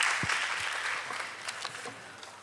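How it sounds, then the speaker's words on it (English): A seminar audience claps to welcome a panelist onto a Rotary SME entrepreneurship panel. The applause is fairly faint and continuous, like clapping heard from across a conference room. "Please welcome him with a big round of applause"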